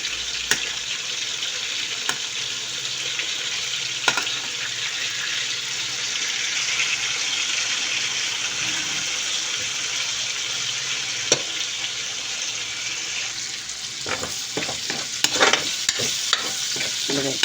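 Sausage frying in butter and olive oil in a pan, a steady close sizzle with occasional stirring scrapes and clicks, busier clatter near the end.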